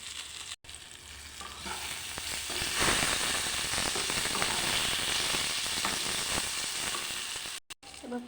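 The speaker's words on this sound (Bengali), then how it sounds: "এবারে ভাজা দেবো। ঢাকনা চাপা দিয়ে দেবো সিদ্ধ হওয়ার জন্য।" Pointed gourd (patol) frying in oil in a covered pan gives a steady, loud, dense sizzle and crackle that holds for several seconds, briefly cut off twice.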